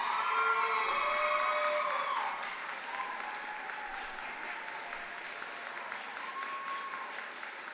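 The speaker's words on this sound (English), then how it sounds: "please, graduates, applaud your parents, family, friends, and loved ones who have supported you" Applause from graduates at an art and design college commencement ceremony, honoring their families, loud and dense at first, then easing to a steadier, softer clapping with scattered cheers.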